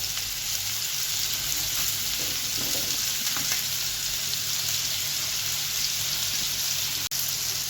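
Sausage fries in a large tray, sizzling loudly and continuously up close with a steady crackle, a few soft clinks of handling partway through.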